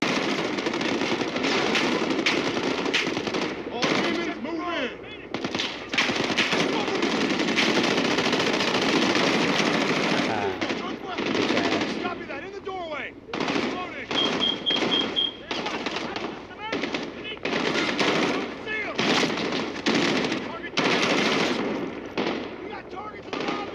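Heavy gunfire in the shooter Call of Duty: Modern Warfare. Loud automatic bursts and single shots repeat through the whole clip at irregular intervals, with people talking at times in between.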